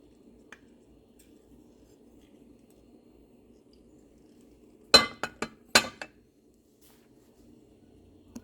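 Lemon juice is mixed into tartar sauce in a bowl, with a quiet stretch before a tight cluster of sharp clinks and taps of a utensil against the bowl, close and brief, no talking.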